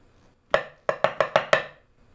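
A Royal Marines Corps of Drums snare plays a short rhythm, one crisp stroke followed after a pause by five quick evenly spaced hits, close and dry with no talking.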